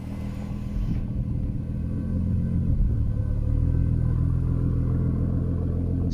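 A Ford GT supercar driving over cobblestones, heard from inside the cabin as a loud, steady low engine and road rumble that swells slightly after the first second and holds for the rest.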